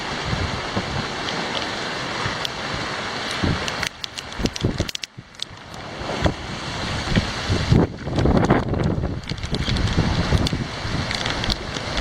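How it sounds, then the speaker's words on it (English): Pouring rain and choppy waves batter a sailboat with a reefed jib on Lake Saint Francois, giving a dense, continuous roar of rain, splashing water and gusting wind noise that rises and falls, close and loud, with no talk. "Pouring rain, it's crazy."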